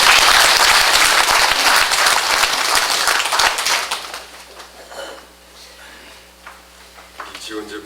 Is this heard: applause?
yes